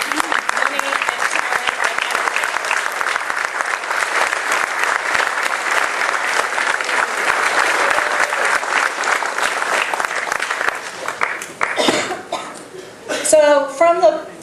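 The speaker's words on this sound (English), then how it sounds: "And you all should give them a round of applause because they threw down money and time." Audience at the Oregon Growers Association inaugural meeting, a sustained, dense round of applause filling a hall for about eleven seconds before it fades into a few chuckles and a voice.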